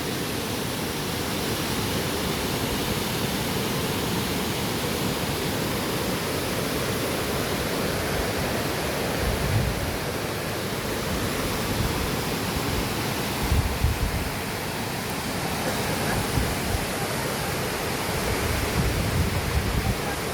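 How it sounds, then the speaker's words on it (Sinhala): Ratna Ella waterfall near Hasalaka in Sri Lanka roars as a steady, dense wash of falling water, loud and unbroken throughout with no voices. "සුන්දර හසලක පුරවරේ රත්න දිය ඇල්ල අසල සිට"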